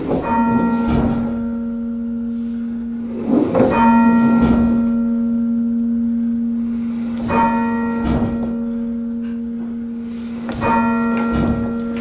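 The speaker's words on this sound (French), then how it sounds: "Les cloches de volet, bien sûr, fonctionnent pour les offices, pour sonner à la volée, pour un appel aux offices" Church bells of the Collégiale Saint-Jean carillon in Liège, whose largest bell weighs 375 kg, ring loud and near in repeated resonant strikes, each leaving a long humming tone that decays between clusters of hits.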